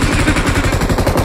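Rapid bursts of M249 machine gun fire in the battle royale game BGMI, a loud, continuous stream of close shots with no voice over them.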